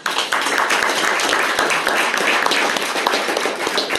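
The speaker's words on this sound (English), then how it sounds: "I'd like to give them a big hand clap, please." Audience applause at an awards dinner honoring football great Buck Buchanan, a dense, steady roomful of clapping that holds at full strength without pause for several seconds.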